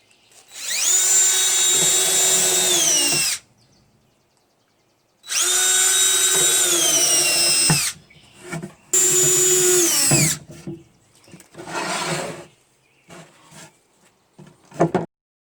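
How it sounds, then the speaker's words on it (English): A power drill with a countersinking bit boring into pine wood, three long high-pitched whining bursts separated by pauses, followed by shorter uneven spurts and a final quick burst, loud and close with no talking. "this is what a countersinking bit looks like. It drills through the wood, and then it countersinks for the head of the"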